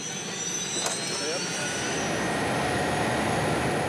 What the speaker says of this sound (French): Il est évacué jusqu'à l'hélicoptère qui va le transporter vers l'hôpital